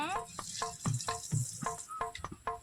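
Mustard seeds crackle and pop in hot oil while cooking a mottu gravy, with repeated sharp spitting bursts over a steady frying hiss, close and fairly loud, with a voice heard faintly.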